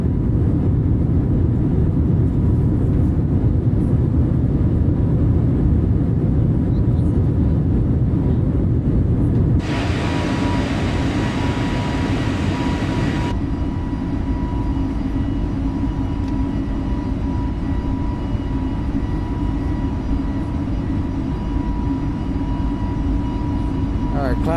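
Airbus A320 with IAE engines at climb thrust shortly after takeoff from San Antonio, simulated in Microsoft Flight Simulator: a steady, loud low jet roar runs throughout, with a voice talking over it.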